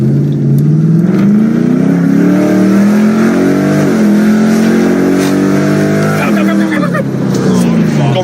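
A tuned 2006 Ford Mustang GT V8 accelerates hard, its loud engine note climbing steadily through the revs with a brief dip at a gear change, heard close from inside the car.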